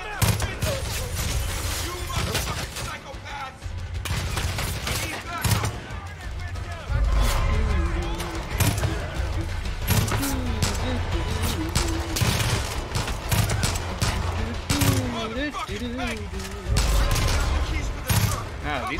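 Gunfire in Far Cry 5, dense rapid bursts and repeated shots running throughout, loud and close, mixed with game sounds while voices talk over the shooting.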